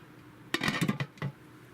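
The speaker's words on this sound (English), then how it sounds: "Let's go ahead and put our cover on." A lid set onto a slow cooker holding seasoned Hawaiian pulled pork, giving a short cluster of close ceramic and metal clinks followed by one more clink a moment later, with no talking.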